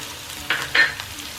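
Chopped onions and four finely cut chillies sizzle and are stirred in a pan for spicy Maggi noodles, with two short close bursts of frying hiss.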